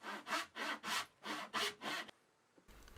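A hand saw crosscuts a wooden board for a Japanese-style toolbox, sounding as seven steady rhythmic strokes, close and clear, then stopping, followed by quiet room noise.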